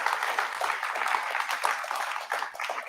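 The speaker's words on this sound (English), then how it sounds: "Can we have a huge round of applause for the batch of 2019?" An audience at a film and TV academy convocation applauds the graduating batch, a dense, steady wash of clapping that fills the whole stretch.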